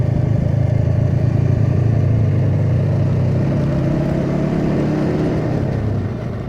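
A steady, loud engine drone of a Royal Enfield Classic 350 motorcycle on a ride, constant throb and rumble with wind, easing slightly at the very end.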